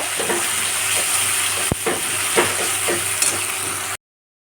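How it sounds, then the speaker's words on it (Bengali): Ground spice paste frying in hot oil for a paneer and potato curry, a steady sizzle with scraping stir strokes every half second or so, close and fairly loud, no talking. "বেটে রাখা মশলাটা আমি তেলের মধ্যে দিয়ে দিলাম এটা ভালো করে কষিয়ে নেব"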